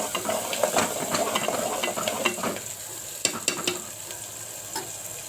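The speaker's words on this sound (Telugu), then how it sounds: "ఇదండి తాలింపు వేగుతుంది" Onion pieces sizzle in hot oil tempering for ivy gourd curry, a steady close crackle with sharp spoon-against-pan clinks and scraping as the mixture is stirred, continuing alone without talk.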